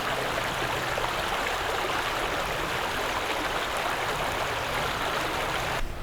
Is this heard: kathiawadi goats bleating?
no